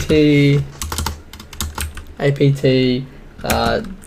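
Keys clack on a computer keyboard as a Linux terminal command is typed, quick bursts of taps half-buried beneath someone speaking close up.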